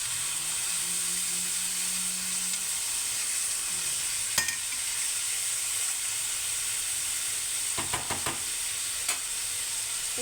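Food frying in a pan is stirred, giving a steady close sizzle and hiss with a few sharp scraping clicks of the spoon partway through and near the end.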